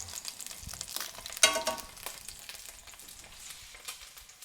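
Richmond pork and leek sausages frying in a pan, a steady close hiss and crackle of sizzling fat with one sharper spit partway through, continuing without talk.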